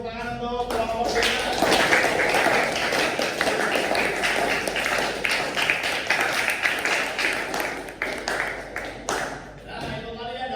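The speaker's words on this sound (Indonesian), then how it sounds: "beri tepuk tangan untuk kelompok ini" Students in a classroom clap for a group that has just presented, a loud, busy burst of many hands lasting several seconds, close and steady before tapering off, with faint voices underneath.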